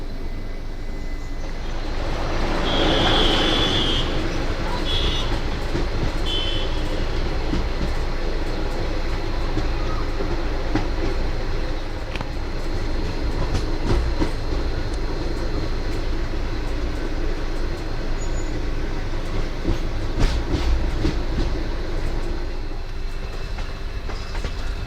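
The Ranikhet Corbett Park Link Express, a passenger train on the Jaipur to Jaisalmer route, rolls along the rails with a continuous loud rumble and rattle, occasional clanks and a brief high squeal early on, heard from on board.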